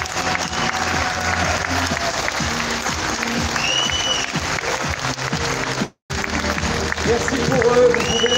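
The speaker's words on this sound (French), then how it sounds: "vous pouvez les applaudir" Audience applause at a UPR political rally in Paris, dense sustained clapping from a large crowd, loud and continuous with a momentary break before resuming even stronger.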